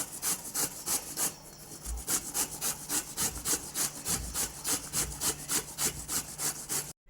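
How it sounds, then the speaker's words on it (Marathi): A whole pumpkin is rubbed down a hand grater in brisk, even strokes, a long run of rhythmic rasping scrapes heard up close, with occasional soft knocks and no talk. "किसणीच्या साहाय्याने हा पूर्ण भोपळा किसून घ्यायचा"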